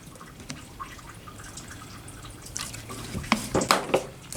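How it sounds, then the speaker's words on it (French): Water poured over freshly sown date palm seeds in a pot, soft trickling and splashing drips that grow louder and more frequent in the last couple of seconds. "on arrose"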